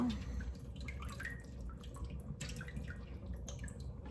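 Water trickles and drips steadily from a boiled chicken being drained for Hainanese chicken rice, a soft, close patter of drops and small splashes with a person talking faintly.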